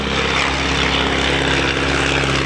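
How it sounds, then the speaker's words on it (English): At a WWII airshow in Virginia Beach, a de Havilland Tiger Moth biplane takes off, its piston engine and propeller producing a continuous loud, buzzing roar that stays steady and close throughout, with no talk. "You'll see another one taking off right now, the de Havilland Tiger"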